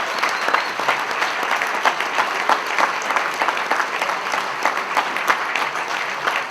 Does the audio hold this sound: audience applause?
yes